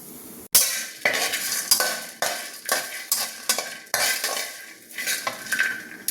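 Whole spices being dry-roasted in a pan until lightly reddened: dry ingredients rattle and scrape as a spoon stirs them, rhythmic strokes close up with a faint sizzle.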